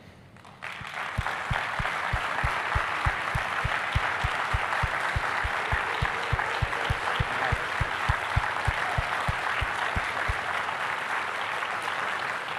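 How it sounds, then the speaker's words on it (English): Sustained applause from a conference audience during a closing keynote, a dense wash of many hands clapping at close range. It starts abruptly and carries on evenly, with a few emphatic claps standing out at a steady rhythm. "if we could do a round of applause"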